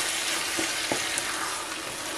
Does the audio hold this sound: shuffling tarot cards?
no